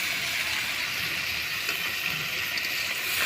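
Mutton sizzling and being stirred in a pot over a wood-fire stove, a steady close hiss of frying meat without pause, loud and continuous, with no talking.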